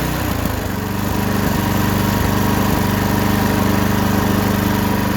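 A mini tractor engine runs loud and close at a steady idle, a continuous low droning rumble with a regular pulsing beat throughout and no talk.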